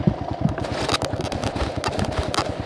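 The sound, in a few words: Kawasaki KLX 125L dirt bike engine idling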